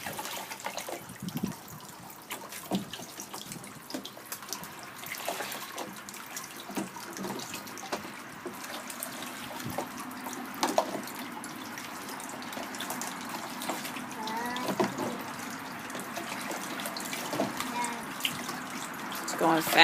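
Water flows and trickles steadily around a toy watermill in a shallow spring creek, a continuous splashy wash with small drips, while children and a parent talk nearby.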